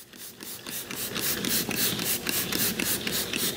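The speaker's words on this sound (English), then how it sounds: "So we're just gonna spray it." Rapid repeated spritzing bursts from a trigger spray bottle applying carpet cleaner to a carpet stain, a steady run of short hissing sprays close by with no talking.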